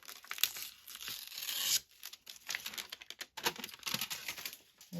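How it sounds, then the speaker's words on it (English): Paper is ripped and crinkled close up for a collage journal, with a long tearing stretch, a sharp break, then more scattered crumpling and tearing noises. "I'm going to rip it"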